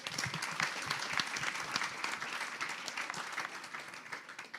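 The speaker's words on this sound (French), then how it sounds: "On applaudit aussi." Audience clapping at a climate injustice talk event, a fairly quiet but continuous patter of many hands heard from a distance and sustained throughout without talk.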